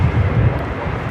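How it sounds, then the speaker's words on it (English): An Emirates airliner landing at LAX, heard as a steady low roar of jet engine rumble with wind noise that stays at an even level throughout. "So Emirates has landed."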